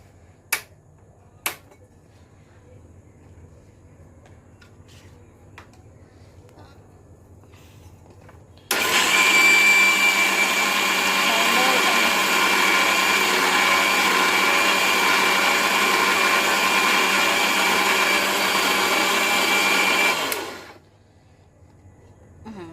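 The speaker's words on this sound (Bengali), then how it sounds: "এখানে আমি কিছু কাঁচামরিচ কুচি দিয়ে নিয়েছি। এখন ব্লেন্ড করে নেব।" A blender chops green chilies. After a couple of sharp clicks it starts abruptly into a loud, steady whirring roar, runs for about eleven seconds, then winds down to quiet.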